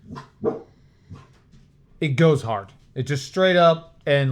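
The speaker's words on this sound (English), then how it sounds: "That's my dog." A dog barks in a few short sharp bursts at the start, then someone talks over the room while the dog goes quiet.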